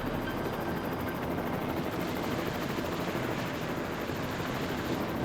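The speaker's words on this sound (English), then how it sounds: "Once we get up to the helicopter, there's a bit of fiddling around to rotate and then bring inside the aircraft." A rescue helicopter hovers during a forest stretcher rescue, giving a loud, steady, dense rotor and engine roar that fills the whole stretch without a break.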